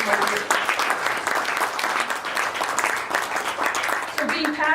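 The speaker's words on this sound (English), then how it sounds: "you need to give yourselves a round of applause" A dense wash of audience applause at a Kiwanis International gathering in Australia fills the room loudly and continuously, thinning toward the end as a voice comes in.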